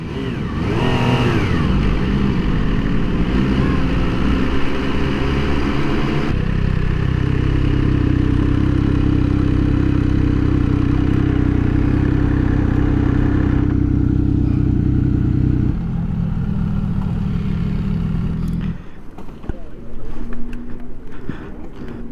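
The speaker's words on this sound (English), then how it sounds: "I just got off this F3RR, and it's definitely a sport bike" An MV Agusta F3RR sport motorcycle at a demo day, its engine loud and close as it revs and pulls away, settling into a steady droning run before the note drops and fades near the end.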